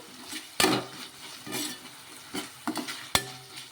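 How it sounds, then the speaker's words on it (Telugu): Tomato pieces and onions are stirred while frying in a pan for coconut fry, close spoon scrapes and clacks against the pan landing every second or so over a continuous sizzle, with no talk. "టమోటా ముక్కలు కూడా వేసేసుకోవాలి వేసుకొని కలిపేసుకోవాలి"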